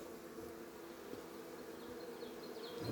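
Honey bees buzzing around a hive box outdoors, a dense steady drone of many insects close by with no talk.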